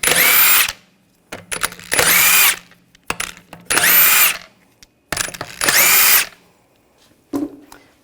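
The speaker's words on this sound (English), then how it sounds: "Use a 17mm socket, take the lug bolts out." An impact gun spins lug bolts off the wheel of a 2007-2013 BMW X5 with a 17mm socket, giving four loud, even bursts of about a second each, separated by short pauses and faint clicks, then one last brief zip.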